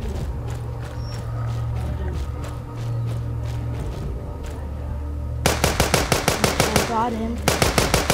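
Rapid automatic gunfire from a weapon in The Walking Dead video game rings out in dense bursts of sharp shots, loud and close, after a stretch of quieter ambient game sound, with someone briefly speaking.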